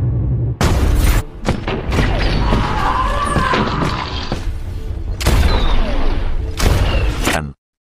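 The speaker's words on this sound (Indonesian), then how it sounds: "Saat menghabisi pasukan Frey, kakinya terkena tembakan." Gunfire in a yakuza action film scene: heavy booming shots and thuds in rapid, irregular bursts, loud and close, broken by brief pauses and mixed with crashing impacts, with no talking heard.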